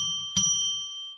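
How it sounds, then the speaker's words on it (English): A bell rung on a live psychic radio broadcast: one clear strike with a bright, sustained ringing tone that slowly fades, the hum of an earlier ring still present before it. "We're now going to ring the bell 3 times"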